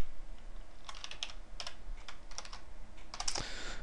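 Typing on a computer keyboard set up for gaming: close, crisp key clicks in short irregular bursts over a faint steady background hum.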